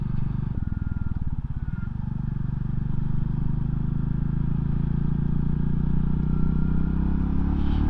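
A Royal Enfield Classic 350 accelerates while being ridden, its single-cylinder engine a loud, close, steady thrum that rises smoothly in pitch, with a faint judder at the start.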